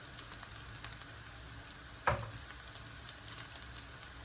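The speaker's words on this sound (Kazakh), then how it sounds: "фаршымызға бір ас қасық қызанақ пастасын саламыз" Minced meat frying with tomato paste in a pan makes a quiet, even sizzle that runs the whole time, broken by one brief louder scrape or clink about halfway through.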